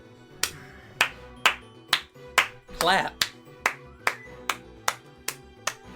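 Slow, evenly spaced hand claps, about a dozen, sharp and close, with a brief voice breaking in midway.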